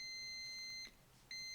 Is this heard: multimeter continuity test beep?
yes